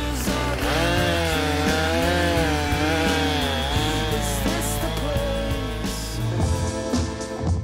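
A chainsaw cuts through wood, loud and close. The engine revs and drops in a continuous snarling drone that shifts in pitch over several seconds, with no speech.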